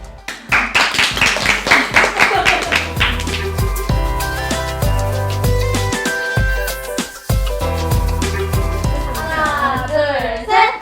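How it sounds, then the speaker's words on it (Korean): Members of a K-pop group clap their hands together in a quick burst at the start, then background music and lively voices carry on. "박수 한 번만 치면."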